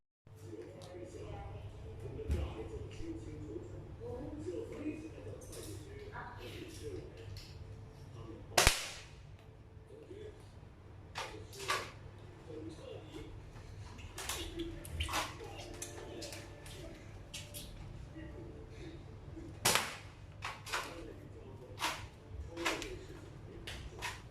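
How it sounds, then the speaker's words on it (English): Nerf blaster toy firing a series of sharp, spaced shots, one especially loud crack near the middle, over steady room noise with a voice speaking quietly throughout. "I will show you guys the firing demonstration"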